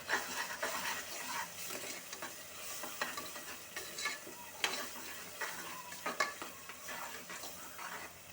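Ingredients frying in a pan with a soft, steady sizzle, broken by repeated scraping and clinking of a spoon stirring against the pan, close and fairly quiet throughout.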